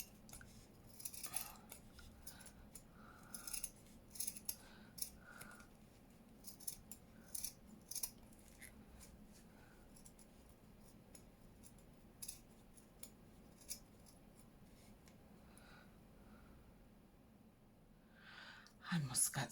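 Quiet snipping of scissors cutting fabric in a zigzag, a series of short crisp cuts spread across the stretch, with faint handling noise and a soft background hum.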